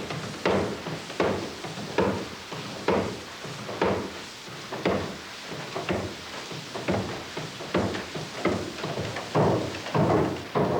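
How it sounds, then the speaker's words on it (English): Water-wheel-driven mechanical hammers forge iron at a works, striking in a steady run of heavy thuds about once a second, close and loud with no pauses across the whole stretch. "his iron is now forged by mechanical hammers driven by water wheel"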